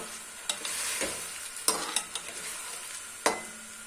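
Tomatoes being stirred into a frying dry mixed-vegetable masala in a pan, with a steady sizzle and a few sharp scraping clicks of the spoon against the pan, close and alone.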